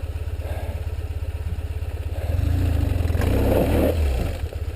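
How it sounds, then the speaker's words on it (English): A BMW 1150GS motorcycle engine drones steadily and loudly off-road, rising in intensity midway with a rough, grinding rev, likely a tire spinning against the ground. "the only thing you could hear over the engine and the spinning tire"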